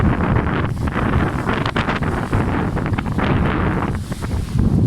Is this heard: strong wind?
yes